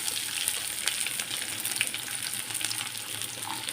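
Garlic and ground shallots fry in hot oil for a Tamil kulambu, a steady bright sizzle and crackle with a few small pops, close and moderately soft throughout.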